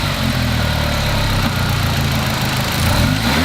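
Car engine revving with an upgraded blow-off valve, a loud dense mid-pitched engine roar held close throughout with a slight rise near the end and no talking.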